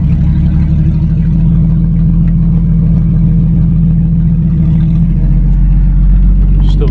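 A restored pre-war car engine running in first gear, a loud, close, steady low rumble with a rhythmic throb that deepens near the end, with a voice briefly heard over it.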